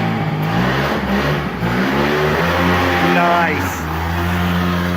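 A 50cc Mini Rex two-stroke engine with oil injection, revving and running steadily close by, its pitch climbing and falling through the rev, while a person briefly speaks over it.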